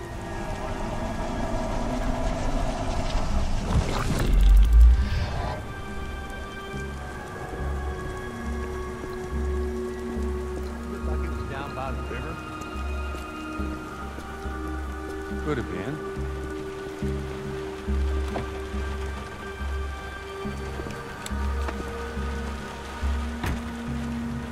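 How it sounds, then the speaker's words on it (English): Rain falls in the video game Beyond: Two Souls. A steady patter of raindrops on surfaces continues under a low hum, with a louder bump near the start and faint game sounds over the rain. "God damn rain."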